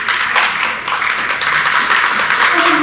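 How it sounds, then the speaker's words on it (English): Audience applause at a provincial election debate in a St. Catharines hall, a dense burst of clapping that is loud and fairly close, with a voice briefly heard under it near the end. "Deserve the applause too."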